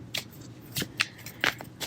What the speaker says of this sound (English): Sometimes when I look at the deck and I shuffle, nothing flips over.